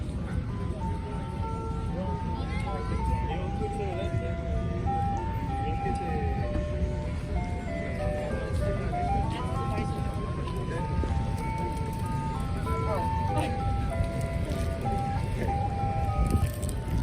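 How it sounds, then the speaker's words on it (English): Ice cream truck at a lake on Memorial Day, its jingly melody playing continuously at moderate distance under a talking voice and busy outdoor crowd noise. "Ice cream truck out here at the lake."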